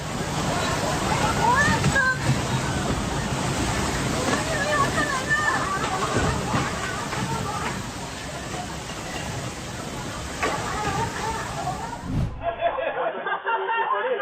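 Water gushes and churns from an underground water line ruptured by subway construction in Bangkok, near a large sinkhole: a loud, continuous rushing wash that carries on for about twelve seconds before cutting abruptly to quieter sound.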